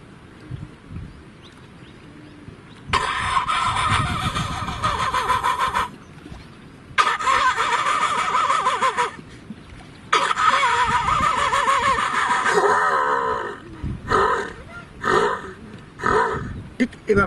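A new bus engine cranks and catches in several loud bursts of starter whine and engine roar, separated by short pauses, with someone talking between and over the attempts.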